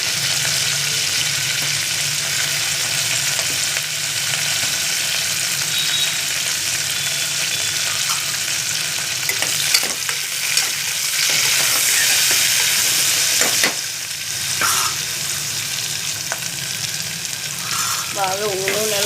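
Onions fry steadily in oil with chillies for a tamarind-leaf chutney, a continuous loud sizzle and crackle with occasional stirring scrapes, close up and without pause.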